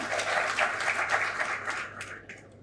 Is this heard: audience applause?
yes